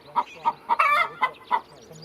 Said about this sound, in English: The chickens are another of Nikki's indulgences. They are mostly Potchefstroom koekoeks or Bosvelders.